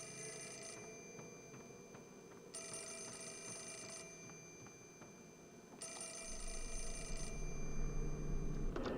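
A telephone rings in the horror video game Fatal Frame: Mask of the Lunar Eclipse, sounding in two long repeated bursts over a quiet, dark ambience with no one talking.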